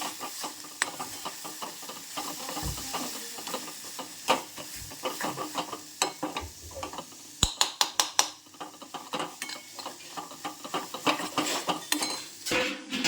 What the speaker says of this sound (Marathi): पूर्ण मसाले स्मॅश करून घ्यायचे यामध्ये.